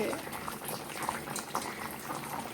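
Beef with kakrol (spiny gourd) simmering in a pot, soft bubbling and gurgling boil heard close and faint, with a voice speaking briefly over it.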